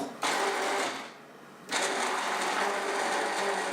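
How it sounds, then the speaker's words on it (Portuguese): A blender whirs loudly, briefly slows to a lower hum, then surges back to full speed, churning eggplant in water up close. "Bater tudo no liquidificador por alguns segundos."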